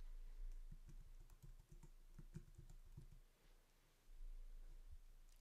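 Rapid, light keystrokes on a keyboard as a username and password are entered for a Foscam camera app, steady clicking at close range over a quiet background hum.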